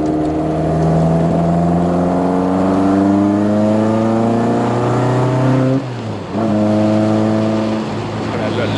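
A classic car engine at a Classic Days event is held at steady revs by the accelerator pedal, its strong harmonic drone dipping briefly and then climbing again, loud and close with nothing else over it.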